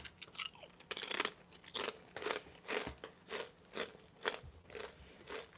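Cajun dill gator tater snacks crunched and chewed close to the mic, a run of about a dozen crisp, rhythmic bites and chews spaced roughly half a second apart, with no talking.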